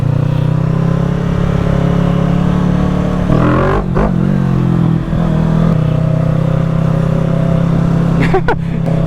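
A Kawasaki Z650 motorcycle idles close by as it warms up, a loud steady low engine drone with a couple of brief revs rising and falling midway and near the end.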